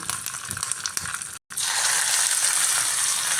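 Steady crackling sizzle of mustard seeds and urad dal frying in hot coconut oil, close and continuous, briefly cut off then returning louder.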